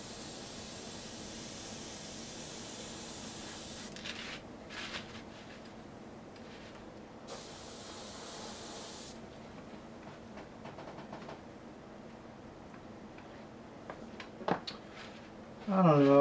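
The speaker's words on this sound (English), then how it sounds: "That sound you might be hearing is the airbrush kicking in, or the air compressor kicking in." An airbrush powered by an air compressor sprays while a painted miniature beetle figure is being worked on. Faint, intermittent hissing bursts rise and stop over a low, steady background hum.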